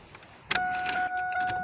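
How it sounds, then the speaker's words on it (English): A key turns in the ignition of a 1998 Chevrolet Camaro LS1: a jangle and click of keys, then a steady two-tone chime rings on close by under soft clinking. "put the ignition on"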